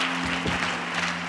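Church congregation applauding, a dense burst of many hands clapping that fills the whole short moment.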